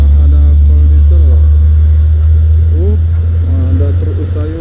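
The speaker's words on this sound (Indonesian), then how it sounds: "Ya, di belakang sana ada kol diesel." A Mitsubishi Colt Diesel truck passes on the road with a heavy, steady low engine rumble up close, while people chat over it.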